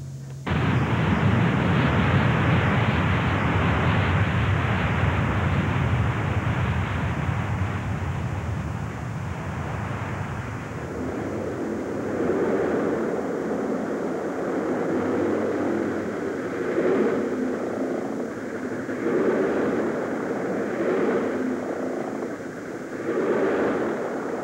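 Airliner landing on a runway in Singapore: a loud, broadband jet roar dominates the first ten seconds, then eases into a steadier, lower rumble with pulsing mid tones as the aircraft rolls out, with no talk.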